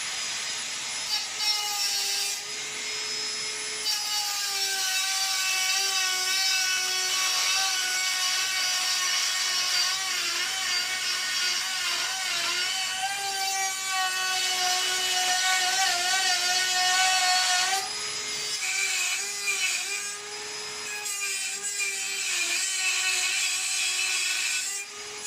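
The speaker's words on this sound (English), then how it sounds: "I'm just cutting this out with a Dremel." A Dremel rotary tool cuts out a small part for a 2-inch scale Fowler showman's traction engine model, giving a close, continuous high-pitched whine that rises and dips in pitch as the cut loads and frees.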